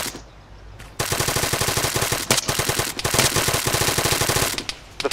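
Rapid automatic gunfire from the video game Arma 3 rattles in sustained loud bursts after a brief quiet start, with a short pause mid-stream before the firing resumes; no talk.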